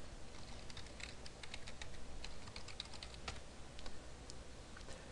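Password being typed on a computer keyboard, a faint run of quick irregular key clicks close up, no voices.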